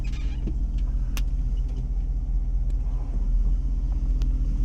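A car cruises along a scenic coastal road by the bay near Picton, with a steady low engine and road rumble heard from inside, a few faint clicks, and no talking.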